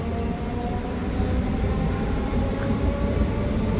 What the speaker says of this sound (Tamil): இப்போ வண்டி கொஞ்சம் கொஞ்சமாக டிபார்ட் ஆகிட்டு போயிடுது.